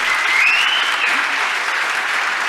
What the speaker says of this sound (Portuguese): Uma salva de palmas pro Gabriel.